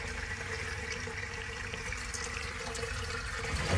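Water flows steadily into a garden rainwater harvesting tank after a roof is hosed off, a continuous rushing, trickling wash that stays even and grows slightly louder at the end.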